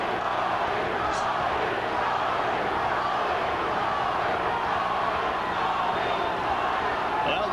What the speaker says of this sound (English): Crowd begins to try to lift the champion.